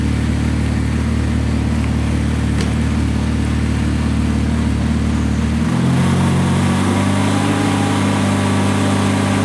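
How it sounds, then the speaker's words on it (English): A Ventrac power broom running in the cold with its hydraulics warming up, a loud, steady engine drone with a sustained whine that drops to a lower pitch partway through, close and continuous. "you can hear the hydraulic whine when it's cold"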